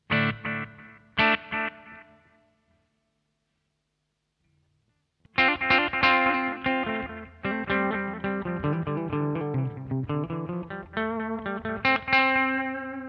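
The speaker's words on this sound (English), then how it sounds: "I'm actually going to speed that up a little bit with the time switch. Try and get more of a slapback tone" Electric guitar run through a pedal-only rig with a delay pedal set to a short slapback tone, playing loud chords and riffs with quick echoes, a gap of near silence midway before the playing resumes.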